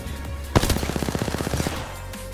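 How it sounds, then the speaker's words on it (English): A burst of rapid automatic gunfire in Apex Legends, a sharp initial shot followed by a quick even rattle of about a dozen rounds, fairly close and loud. "There's two shooting the down guy."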